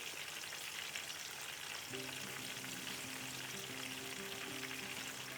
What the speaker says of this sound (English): Keep the flame on low medium and you can fry the fish.